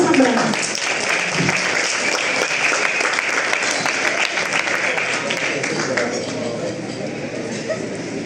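At a Venezuelan forum on sustainable monogastric livestock, an audience gives a strong round of applause for a veterinarian, dense continuous clapping filling the room at steady volume throughout.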